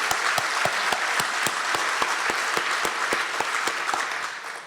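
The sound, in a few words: audience applauding at naming ceremony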